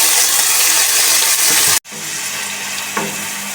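Finely chopped onions frying in hot oil in a kadhai with toasted cumin seeds, a loud, steady hiss and sizzle that cuts out briefly and then resumes.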